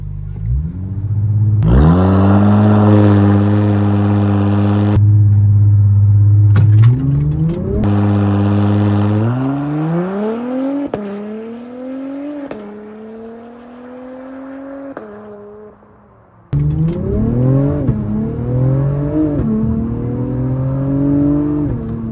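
An Acura TLX Type S launches hard in Sport Plus mode with launch control, its engine roaring loud and close through a series of rising revs and gear changes, with a brief dip before pulling again.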